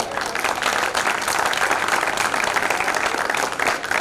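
Audience applause for a singer at a Hindi poetry and song event, a dense, loud, steady wash of many hands clapping together for a few seconds.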